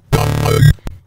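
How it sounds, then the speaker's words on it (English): An LMMS talking bass synth with its filter cutoff swept by hand, playing one low note that moves through vowel-like, mouthy tones before cutting off, with a short second blip right after. "you will have that slight talker bass type sound like this"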